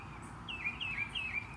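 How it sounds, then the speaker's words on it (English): Small birds singing on a morning outdoors in the Sugarland and Stafford area, three bright chirping phrases rising and falling in quick succession at moderate distance over a low steady background hum. "such beautiful noises with the birds"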